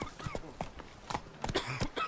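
Horse hooves clip-clopping on ground in The Witcher 3: Blood and Wine, a brisk uneven run of close hoof strikes, with faint game sounds between them.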